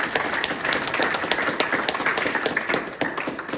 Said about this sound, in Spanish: un aplauso, señores, a Jesús